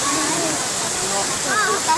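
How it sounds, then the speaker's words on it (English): Waterfall at a Japanese festival site where children play in the water, a steady broadband rush of falling water filling the scene, continuous and close, with voices in the background. "There's like a freaking waterfall over here."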